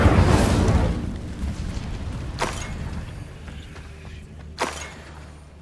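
In Hogwarts Legacy, an Incendio fire spell bursts with a loud whooshing roar that slowly fades, followed by two sharp fiery pops or blasts a couple of seconds apart.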